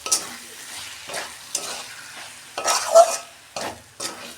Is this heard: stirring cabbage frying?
yes